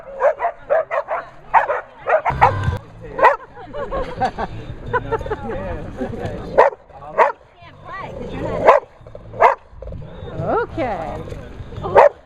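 Several dogs bark, yip and whimper at a Halloween-themed dog park, sharp repeated barks close by over a babble of people chatting throughout.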